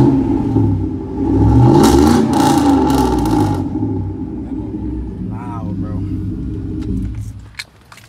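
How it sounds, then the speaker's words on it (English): A Can-Am Renegade 1000 XMR ATV engine revs up into a loud rumbling roar, then settles back to a steady idle, with someone talking over it. "I don't think I ever really revved it for y'all on camera."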